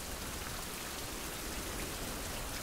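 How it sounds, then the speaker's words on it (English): Steady rain in the survival video game Survival: Fountain of Youth, a dense, even hiss of falling drops that continues unbroken, with no voices over it. "the rain is making the visibility far worse than it would normally be"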